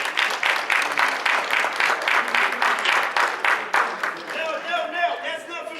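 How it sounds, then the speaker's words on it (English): Audience at a gala applauding the evening's MC, a dense burst of clapping with crowd noise for about four seconds before it thins into scattered claps and murmuring voices. "Please give him a round of applause."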